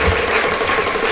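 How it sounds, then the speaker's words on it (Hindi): Audience clapping at a stage event, a dense, steady wash of many hands that stays loud and even from start to finish, with no voices over it. "सो एक बार जोरदार ताली हो जाए इस सोच के लिए।"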